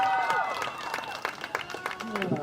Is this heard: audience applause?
yes